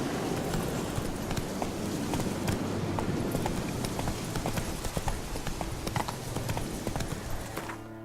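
Horse hooves galloping steadily in The Witcher 3, a continuous fast clip-clop rhythm close up over outdoor ambience, with no talk.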